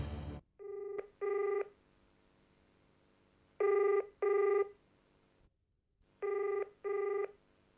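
A telephone rings in three pairs of loud electronic double trills separated by pauses, heard alone after a brief burst of sound at the start.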